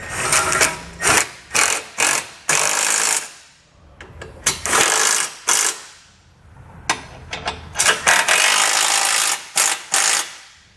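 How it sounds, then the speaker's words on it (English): A ratchet with a 13mm socket tightening bolts on an EcoHitch hidden trailer hitch receiver, heard as loud, close bursts of rapid clicking that repeat in short strokes with brief pauses between them. "you want to grab that 13mm socket and snug them all up"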